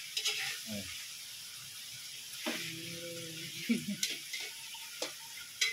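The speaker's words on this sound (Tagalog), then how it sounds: "Piniprito niyo yan." Soft, steady sizzling of adobo frying in oil, with occasional stirring clatter and clicks close by.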